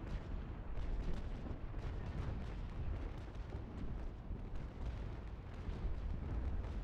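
Heavy ship cannon fire in a Naval Action sea battle rumbles as a dense, continuous barrage of overlapping booms, steady and loud throughout with no break.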